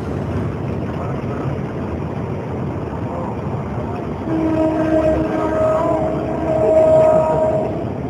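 A red and blue CC diesel locomotive, JJ-01-129R, hauling a freight train on the Kalimas–Banyuwangi Baru route: a steady, loud engine and rail rumble, then long, near, sustained horn blasts in the second half.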